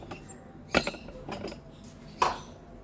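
A pressure cooker lid is locked shut while beef curry is being made, giving a few sharp metallic clinks and clanks, two of them louder, close by in a quiet kitchen.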